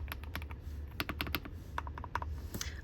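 Mechanical keyboard fitted with new keycaps, typed on in quick irregular bursts of close, crisp clacks with a soft, creamy tone and no talking.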